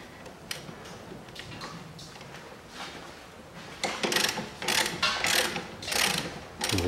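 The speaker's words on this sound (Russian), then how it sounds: "Головкой на 17 откручиваю скобу суппорта." Ratchet with a 17 mm socket loosening a brake caliper bracket on a 1999 Hyundai Lantra 1.6, close-up rapid clicking in uneven bursts that grow louder and busier toward the end.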